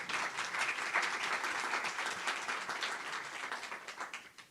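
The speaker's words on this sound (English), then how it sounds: "So please give a round of applause to the panel." Steady audience clapping for a discussion panel at a conference event in Medellín, fairly faint and even, tapering off slightly toward the end with no voices over it.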